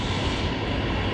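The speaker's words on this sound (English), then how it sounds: "coming in. A330 200, of course, One World livery" Qantas Airbus A330-200 in oneworld livery coming in to land, heard as a steady, broad engine roar that holds constant throughout, with no talk.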